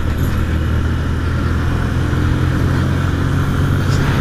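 Motorcycle riding on a road in Santana de Parnaíba, with a steady, loud mid-pitched engine drone and rushing wind noise that hold constant throughout, no one speaking.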